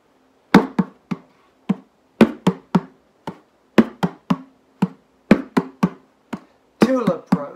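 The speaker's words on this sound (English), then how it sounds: "I'm going to play rhythm number two on my old friend," Rhythm tapped out on an old bucket drum, a pattern of sharp, close hits in repeating groups of short-short-long, ending with a slightly louder roll of quick strikes.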